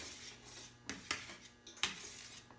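Seasoned chickpeas with salt stirred in a bowl, a few sharp clinks and scrapes of utensil against the bowl over a soft background, without speech.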